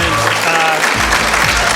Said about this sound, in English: you'll be removed if you continue clapping like that